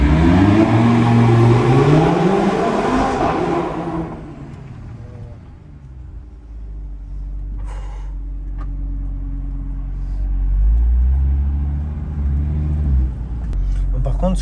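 An Audi RS3 engine roars loudly and rises in pitch, then drops to a deep low rumble that swells again; a few brief clicks and knocks are heard near the end.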